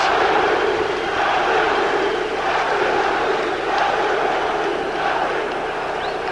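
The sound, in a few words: fight crowd reacting and cheering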